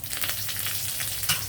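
Garlic, cumin, mustard seeds, dry chilli and curry leaves crackle and sizzle in hot oil during a tempering, a steady loud fry with small popping bursts throughout.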